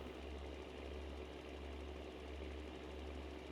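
A steady, droning tractor engine in the video game Farming Simulator 19 idles with a constant low rumble and slight rhythmic knocking, with no talking.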